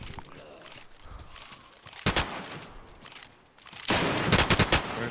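Gunfire in the DayZ video game sounds as sharp, loud bursts, one brief crack near the middle and then a dense rapid volley at the end, over scuffling background noise.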